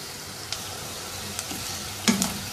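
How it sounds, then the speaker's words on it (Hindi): Chopped onion frying in a karahi with a soft, steady sizzle and a few brief spatula scrapes and taps, the last one louder, no talking. "प्याज को इतनी देर तक पकाएंगे कि इसकी रंगत तब्दील हो जाए और ये थोड़ा नरम पड़ जाए।"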